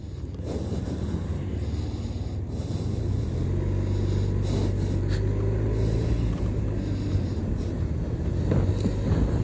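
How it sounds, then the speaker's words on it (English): Heavy road traffic passing, with a continuous low engine rumble and wind buffeting that swell as vehicles go by, close and loud with no talk. "Heavy traffic."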